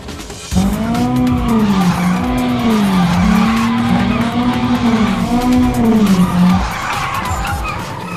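Street race cars launching off the line, with loud, continuous tire squeal and skidding over roaring engines that sweep up and down in pitch for several seconds, close and dominant.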